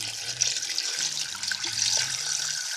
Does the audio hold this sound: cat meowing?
no